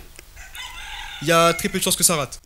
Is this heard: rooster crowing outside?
yes